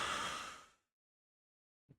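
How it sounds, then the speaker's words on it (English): Deep breath drawn in during a guided breathing exercise, a loud, close, airy inhale that fades out after under a second, followed by silence and a soft thump. "Breathing in."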